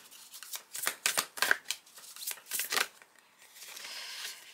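A deck of tarot cards is being shuffled by hand in a series of soft, close riffling bursts, uneven in rhythm, followed by a quieter stretch of light card handling.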